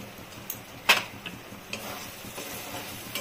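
Spices fry in a pan for bhindi masala, giving a quiet steady sizzle with a few sharp clicks and scrapes of stirring, and no talk.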